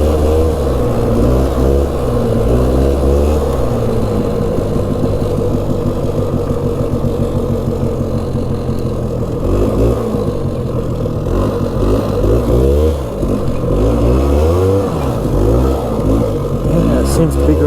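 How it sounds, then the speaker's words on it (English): A Polaris ATV engine running close by with a new drive belt, its revs rising and falling repeatedly in uneven surges over a continuous loud drone, with talk at times. "Kind of want to vary the RPMs there for a little bit until it's broke in"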